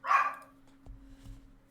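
A dog gives a single short bark close by, loud at the start, then low thumps and faint movement follow; the dog is heard during a casual co-op gaming session at home.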